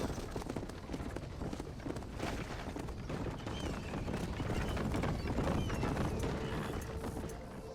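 Horse hooves galloping in the Red Dead Redemption video game, a steady rapid clip-clop rhythm running throughout at moderate, quiet level with game ambience beneath.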